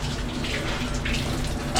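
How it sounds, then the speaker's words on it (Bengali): Tap water runs steadily over hands as they are washed before a rice meal, a continuous close splashing gush with no talking. "হাত টাত ধুয়ে নিলাম"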